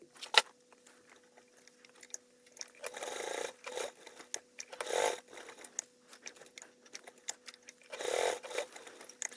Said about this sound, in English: I'm just going to quickly top stitch that second piece too